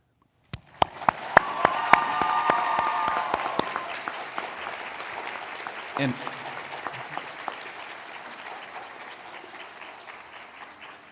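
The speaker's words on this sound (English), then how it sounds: "Please join me in applauding these prize recipients." Audience applause for college prize recipients at a Founders' Day convocation, opening with a few sharp individual claps that swell into steady hall-wide clapping, then thin out into scattered claps as it fades.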